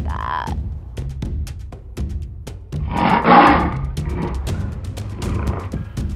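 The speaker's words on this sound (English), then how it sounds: "And then we have a lion." A lion animal toy gives one loud roar midway, with sharp plastic clicks and handling taps before and after it.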